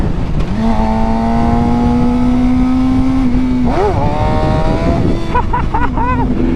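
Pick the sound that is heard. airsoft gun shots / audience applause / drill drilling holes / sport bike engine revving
sport bike engine revving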